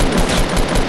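Rapid automatic gunfire from a player's weapon in the Fortnite video game, a dense, loud burst of shots filling the whole second with no talking over it.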